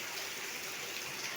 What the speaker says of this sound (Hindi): तो आप देख सकते हैं ये बारिश हो रही है